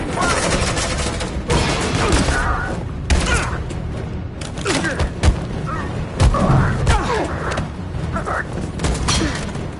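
Heavy gunfire in the video game Detroit: Become Human, dense bursts of rapid shots and booms crackling over one another, loud and close, with shouted voices mixed into the chaos.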